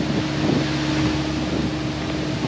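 Steady wind blowing across an outdoor microphone, a continuous broadband rush with low rumble and no letup, heard alone while a homemade trencher for irrigation pipe or cable is being used.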